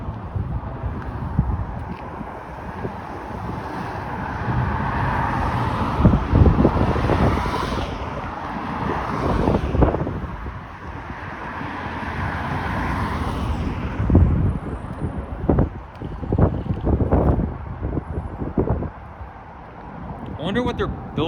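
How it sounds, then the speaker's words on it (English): Wind buffets a microphone outdoors on a neighbourhood walk, with loud, gusty low rumbling that rises and falls throughout, under intermittent talking. "I'm tired of the windy weather."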